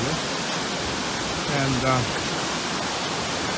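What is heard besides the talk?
loud water cascade on the Fairy Pools Trail, Isle of Skye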